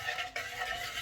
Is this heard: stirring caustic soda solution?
yes